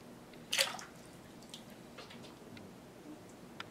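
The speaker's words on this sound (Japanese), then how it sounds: "洗えたらお湯をかけて泡を流します" Warm water splashes and drips as it is poured over a baby to rinse away soap during a bath, with one brief louder splash followed by quiet trickles and faint drips.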